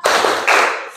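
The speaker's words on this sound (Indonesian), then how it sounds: "kita mulai tepuk semangat" A class of schoolchildren performs the tepuk semangat clapping chant, two loud, close bursts of rhythmic clapping in quick succession.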